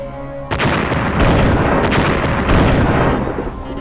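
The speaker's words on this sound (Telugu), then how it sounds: "ఇంగ్లీషు వాళ్ళు స్టేషన్లో బాగా బాంబులతో దాడులు చేయించారు." Loud bomb explosions boom in a dense, rumbling burst as a sound effect in a Telugu horror story about a British bombing attack on a railway station.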